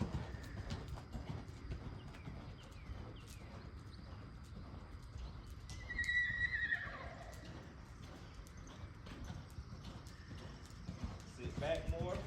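A racehorse lopes under a rider in training, its hoofbeats making a soft, rhythmic clip-clop at moderate distance, with a brief whinny-like cry midway and quiet surroundings.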